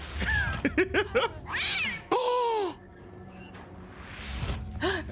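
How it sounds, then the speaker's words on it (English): Several cats meowing in the game Dead by Daylight, a run of close, expressive meows and a longer caterwaul, with short quiet gaps between calls. "there's 3 cats currently on screen"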